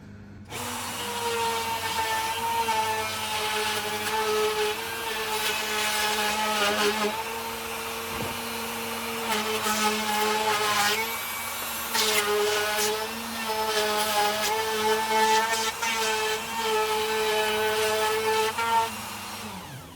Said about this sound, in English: until I cut through that 1/2 inch sheet of medium density fiberboard